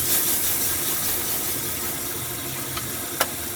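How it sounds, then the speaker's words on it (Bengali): Spice paste fries for a fish curry in a pan with nigella seeds, a steady close sizzle and hiss with a couple of faint utensil clicks as it is stirred. "নাড়াচাড়া করে মশলা কষিয়ে নিচ্ছি।"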